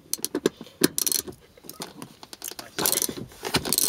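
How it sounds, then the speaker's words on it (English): A long T50 Torx seatbelt bolt being removed from the pillar of a BMW 330ci, with close ratcheting clicks and metallic rattles in quick irregular bursts. "T50 Torx. Take the bolt out."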